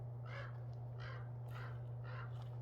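A crow caws four times at a steady, evenly spaced rhythm, fairly close and clear, over a constant low electrical hum on a farm.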